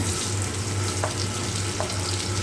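Onion and green chillies fry in a pan with browned cumin, producing a loud, constant sizzle with a brief faint clink or two and no talking.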